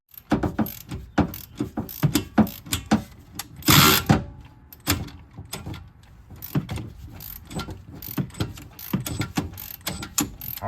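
A hand ratchet clicks in quick repeated bursts while loosening the upper control arm bolts on a Ford Ranger, close and loud, with short pauses between strokes and no talking.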